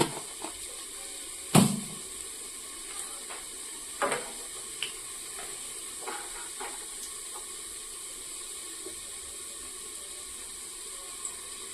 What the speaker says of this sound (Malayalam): കടുക് ഇട്ട് കൊടുത്ത്